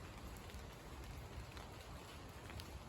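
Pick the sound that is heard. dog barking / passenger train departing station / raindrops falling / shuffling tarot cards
raindrops falling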